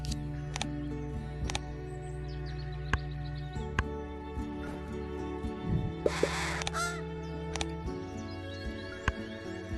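American Crow from the Wingspan board game, a few short caws over a soft steady electronic hum with scattered clicks, one brief louder bright burst midway, no voices.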